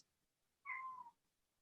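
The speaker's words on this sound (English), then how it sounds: "my cat just meowed" A house cat gives a single short, faint meow, heard alone in a quiet room with no other sound around it.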